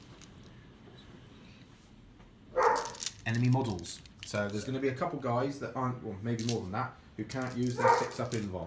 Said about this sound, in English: So that's the dog barking.